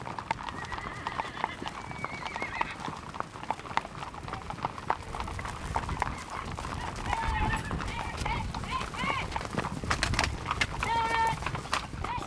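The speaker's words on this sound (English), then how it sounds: "Horses are in a hurry, and there's lots of galloping to keep up." Horses gallop at a furious pace during a horse drive, a steady rapid clip-clop of many hooves close by with an occasional whinny, continuous through the clip.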